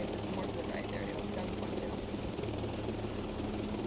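A helicopter in the Ghost Recon Breakpoint video game drones with a steady, continuous rotor and engine rumble, moderately loud and unchanging throughout, heard under players talking.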